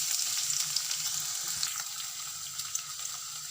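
Two medium onions, sliced long, fry in two tablespoons of hot oil in a kadhai, giving a steady close sizzle with scattered crackles and soft stirring scrapes, and no talk.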